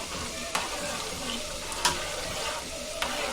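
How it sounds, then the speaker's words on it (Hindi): Goat meat sizzles and fries in hot oil with ginger and garlic for a zafrani biryani, a steady crackling hiss with a few sharp stir clatters against the pot. "अभी हम इसमें गोश्त बघार रहे हैं।"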